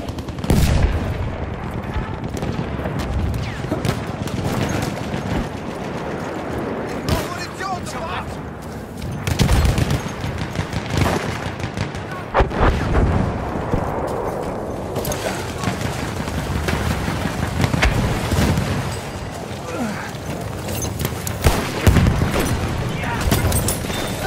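Gunfire and explosions in a WWI trench-raiding video game, with dense rattling shots, bursts and booms throughout and voices shouting over the battle noise.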